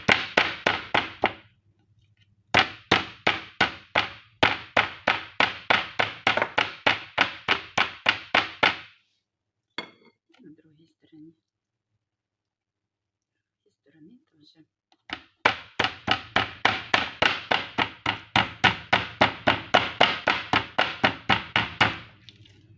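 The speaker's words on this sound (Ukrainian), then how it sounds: "М'ясо з гмілок я відіб'ю ось так молоточком." Rapid, steady pounding of a meat tenderizer mallet on pork shanks, dozens of sharp close thuds in two long bursts separated by a quiet pause.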